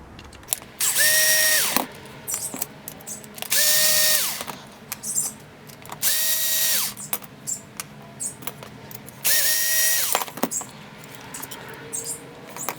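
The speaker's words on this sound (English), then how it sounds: "I'm going to remove this 4 screws here, and then you're going to see pretty much the whole distribution board come off" Electric screwdriver backing out four screws from the distribution board of an Xhover MXP 180 drone frame, four loud whirring bursts in a regular rhythm with soft clicks and handling noise between them, close up.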